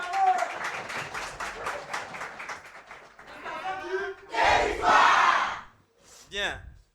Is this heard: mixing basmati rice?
no